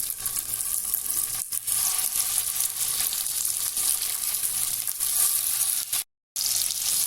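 Chicken seekh kebabs sizzling in a little oil on a hot tava, a close, loud, continuous frying hiss broken by a brief silence near the end.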